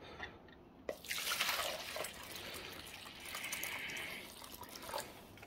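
Snow foam soap being decanted on a workbench spills and splatters, with wet dripping and trickling sounds, a sharp splash near the start and faint, close liquid noises throughout.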